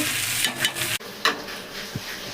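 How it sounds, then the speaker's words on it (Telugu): Food cooking in oil in a pan with coriander leaves added, heard up close as a hissing sizzle broken by a sudden short pause, then stirring scrapes and a soft knock, with no one talking. "సో ఇప్పుడు ఇది మంచిగా ఉడకాలి ఆయిల్లో"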